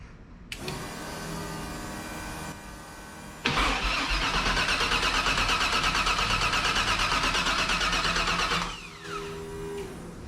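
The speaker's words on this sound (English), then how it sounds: "when I was cranking the engine and everything, it was trying to start" A Factory Five 35 hot rod truck engine cranks steadily but fails to catch, a loud rhythmic whirring starter run of about five seconds between quieter electrical hum and clicks.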